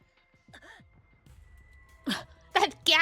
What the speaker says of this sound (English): That gasp!